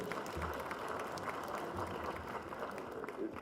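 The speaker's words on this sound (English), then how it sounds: "Let's give them a proper round of applause, please." Applause from an audience at an app launch event after a live band's set, steady distant clapping spread evenly throughout, fairly faint and with some crowd murmur beneath.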